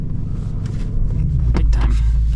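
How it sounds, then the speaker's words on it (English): A 2026 Ford Mustang GT Convertible pulls away, its V8 rumbling low and close as the engine note builds. A brief mechanical clunk and rustle sound partway through. "So let us set off in the GT Convertible."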